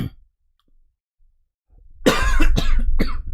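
A person coughs in a short cluster of harsh, close bursts after a near-silent stretch during a live-streamed tournament broadcast.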